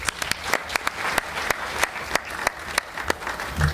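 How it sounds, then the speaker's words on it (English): Scattered applause from a small audience, individual sharp claps standing out in an uneven rhythm rather than a full ovation. "Let's give him claps."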